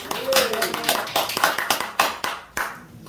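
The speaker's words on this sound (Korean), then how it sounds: "감사의 박수를 표합니다." Applause in a church service, a congregation clapping in thanks to the visiting pastor, with scattered claps and taps and a voice speaking over part of it.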